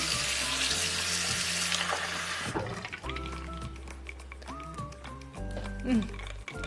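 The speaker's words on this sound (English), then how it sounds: "We can drink tap water, so fill that one." Tap water running into a glass at a kitchen sink, a hissing rush of flow that stops partway, followed by clinks and light handling noises close by.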